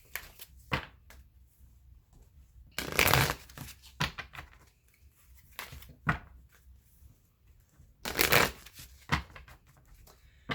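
Romance Angel oracle cards are shuffled close by in repeated brisk riffles and soft slides, with a few louder bursts among quieter rustling and no talking.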